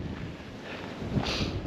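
Wind gusts buffet the microphone on an exposed hillside hiking trail, a loud rushing roar that swells and eases over a couple of seconds with no voices.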